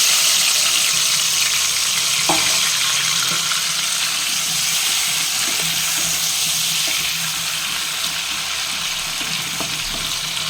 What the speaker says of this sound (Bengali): এবারে এই ম্যারিনেট করা চিংড়ি মাছটাকে দিয়ে দিলাম